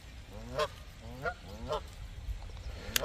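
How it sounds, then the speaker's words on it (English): Canada geese at a pond honk at a dog in a series of short, moderately distant calls about every half second, with a quieter honking backdrop and outdoor ambience. "They're telling Benji to keep away."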